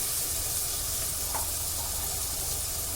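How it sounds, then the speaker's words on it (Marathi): Finely chopped onion sizzles in oil with cumin in a pan for an Agri-style chicken curry, a steady hiss of frying that holds at one level. "जिरं चांगलं फुललेलं आहे त्यामध्ये एक छोटा कांदा बारीक चिरून घालायचा आहे"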